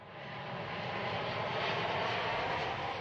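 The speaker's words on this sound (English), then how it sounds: "time that an Air France 787 has landed in Paris" An Air France Boeing 787 Dreamliner comes in to land on a runway in Paris. Its engines make a steady broadband roar that swells gently and holds loud the whole way through, with nobody talking.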